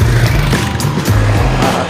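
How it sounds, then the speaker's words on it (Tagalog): Vehicles rolling past on a newly opened diversion road between Dasmariñas and General Trias, a loud, close rumble of engines and tyres with fluctuating low tones, heard outdoors without clear talking. "Yan po, may mga nadaan ng sasakyan."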